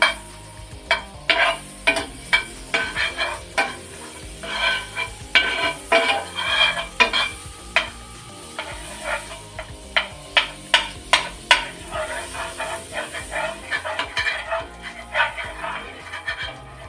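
Butter melting in a hot nonstick pan for a pea omelette, with steady frying sizzle, a stream of clicks and repeated sharp taps of a utensil against the pan, close and fairly loud throughout.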